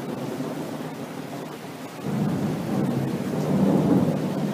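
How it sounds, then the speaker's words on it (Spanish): Thunder from a summer thunderstorm rolls in as a deep, swelling rumble over a steady wash of falling rain, growing louder partway through and lingering without any voices. "me da un poco de miedo a mí esto de los relámpagos, de las tormentas, de los truenos."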